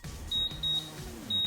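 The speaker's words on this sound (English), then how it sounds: "Now our buzzer's going off, we're going to pull them out" A kitchen timer beeps three times in short, even, high-pitched tones while chicken cooks in the oven, with faint background noise underneath.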